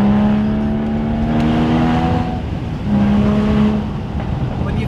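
A Porsche Boxster Spyder with a manual gearbox drives through the Scottish Highlands, its engine holding a loud steady drone with a brief dip in pitch partway through, as if between gears, heard from inside the car.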